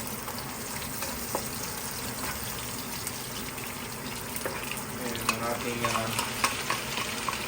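Onion frying and being stirred in a pan for pancit bihon, a steady sizzle with scraping spatula strokes that grow busier toward the end, close and moderately loud, no voices.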